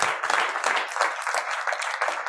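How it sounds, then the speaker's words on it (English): A crowd at an association annual general meeting applauds a panel steadily, a dense patter of many hands clapping at moderate volume for a couple of seconds. "Round of applause for our panel."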